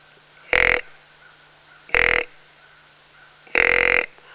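A hunting grunt call imitates deer buck grunts: three short, loud, guttural bursts spaced about one and a half seconds apart, over a quiet background with no talk.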